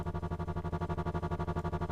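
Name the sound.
stereo delay echo effect on a dubstep synth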